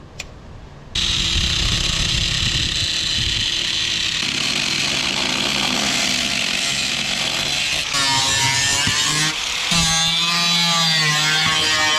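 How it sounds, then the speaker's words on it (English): A loud power tool cuts into the steel quarter panel of a Nissan Gloria car body, running as a continuous harsh high-pitched whine with shifting scraping tones as the blade bites, alone without talk. "So we're gonna have to make a cut there as well"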